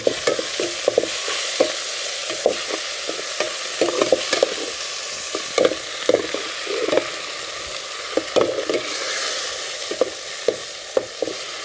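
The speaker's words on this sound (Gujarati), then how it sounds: "આવી રીતે ઘડીક તેલમાં શેકાવા દેવાની છે ભાજીને" Fresh green fenugreek leaves sauté in hot oil in a pot while being stirred, a steady sizzle under a regular series of scraping stirring strokes, close up and without talk.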